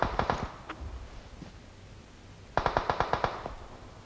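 Automatic gunfire in the PUBG Mobile battle royale game, a rapid burst of about six shots, a single shot and a faint one, then a second burst of roughly eight sharp cracks, fairly close.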